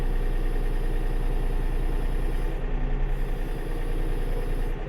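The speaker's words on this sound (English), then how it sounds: "this tractor lifting all this weight does not do as great" A tractor engine runs steadily under heavy load while lifting a Wood-Mizer LT50 sawmill outdoors, a loud, continuous low rumble with a regular throb and no speech.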